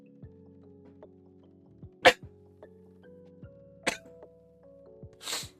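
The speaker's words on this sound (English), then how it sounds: "I feel a sneeze." A person sneezes sharply three times, spaced a couple of seconds apart and close to the listener, over faint steady background music from a horse-racing training game.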